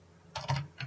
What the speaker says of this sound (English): typing cd command, and after the name of the folder